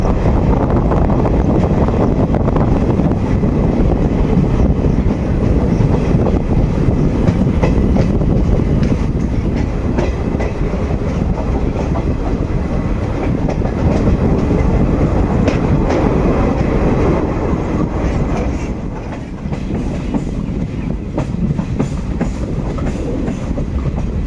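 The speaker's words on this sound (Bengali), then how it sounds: "18011 চক্রধরপুর এক্সপ্রেস বাগনান রেলওয়ে স্টেশনে এসে পৌঁছেছিল প্রায় রাত 2টোর সময়তে।" Inside the 18011 Chakradharpur Express running through the night, a loud, continuous rumble of wheels and rails with rhythmic clickety-clack and wind rush, dropping slightly near the end.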